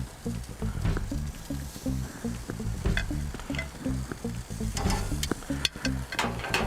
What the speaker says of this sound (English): Nice and hot, you can hear that sizzle.